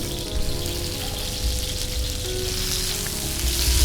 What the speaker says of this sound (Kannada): ಬಿಸಿ ತವಾದಲ್ಲಿ ಹಾಕಿಬಿಟ್ಟು ಹುರಿ ಹುರಿದುಕೊಳ್ತಾ ಇದ್ದೀನಿ